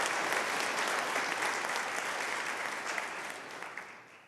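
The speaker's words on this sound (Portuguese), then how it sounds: "Se você concorda com isso, aplauda o Senhor." A church congregation at a Portuguese-language service applauds, a broad wash of clapping from the whole room that stays steady before thinning and fading toward the end, with no talk over it.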